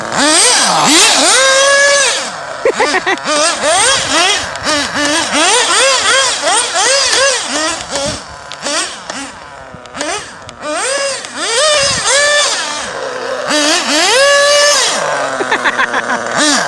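A big modified motor in an RC buggy whines loudly and close as it runs and drifts, its pitch sweeping up and down in repeated bursts with short lulls between.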